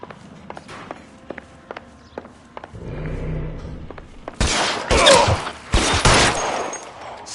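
Gunfire in the L.A. Noire crime video game: a burst of loud, sharp shots near the end, preceded by scattered footsteps and a rumbling vehicle, with the shots coming in quick clustered volleys.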